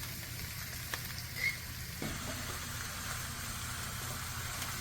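Onions and eggplant frying in olive oil in a pan, a quiet continuous sizzle under a low background hum, with a couple of faint clicks and a small knock partway through.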